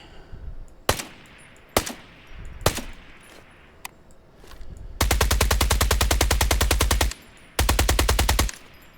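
Airsoft RPK firing outdoors: a few single loud shots, then a long sustained rapid burst, a brief pause, and a second burst, sharp and close.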